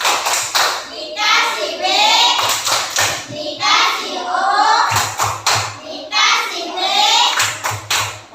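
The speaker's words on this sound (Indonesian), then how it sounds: "Tepuk tangan." Children in a classroom clap their hands in several bursts of applause, loud and close, with a voice and chanting heard between and over the clapping.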